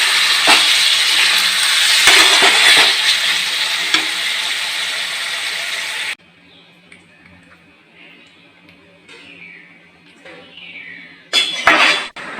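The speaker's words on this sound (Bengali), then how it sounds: "তারপরে একটু নাড়িয়ে আমি নাড়িয়ে নেব" Jute leaf curry frying with ghee in a pan, stirred with clinking and scraping over a loud sizzle for several seconds, then a cut to quieter kitchen sounds and a final burst of frying.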